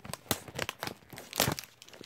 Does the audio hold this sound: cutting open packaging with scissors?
yes